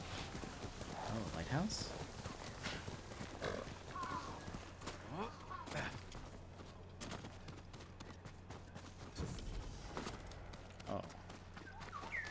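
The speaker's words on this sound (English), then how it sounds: "Love the sound of the horse on, like, on the crunch of the snow." Horse hooves crunch rhythmically through snow in the video game Ghost of Tsushima, with a person talking briefly and occasional game sounds over the steady trudging.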